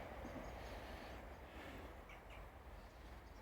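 A train passes on a nearby railway line beside an allotment, a faint, steady rumble heard from a distance, with occasional bird calls in the background.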